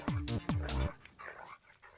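A dog gives two sharp, loud barks in quick succession, followed by quieter scuffling and faint background sound.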